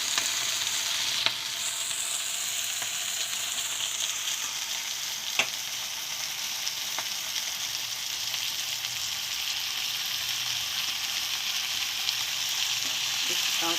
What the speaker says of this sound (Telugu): ఇప్పుడు దీనిలో మనం ఈ ఆకుకూరను వేసుకుందాం.